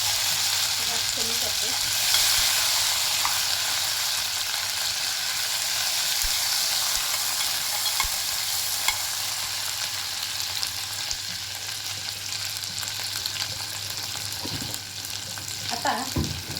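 Onion-coconut masala paste fries in oil in a deep pan, giving a steady, close sizzle with occasional stirring scrapes, for a spicy mutton curry. Someone speaks briefly over the frying.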